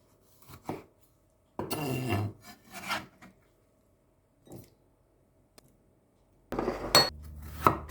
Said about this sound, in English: Slice 1 piece of bitter melon.